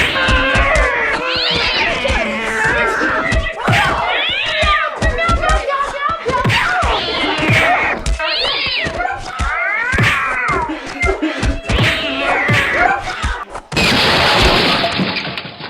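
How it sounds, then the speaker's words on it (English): Cats fight outside, trading loud, rising and falling yowls and caterwauls in close succession, with scuffling, and a sharp crash near the end. "that cat fight's going on outside"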